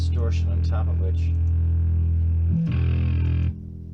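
Heavy distorted electric guitar tuned to drop D, sustained low chords ringing loud and close, then cutting off abruptly near the end, with speech over the opening.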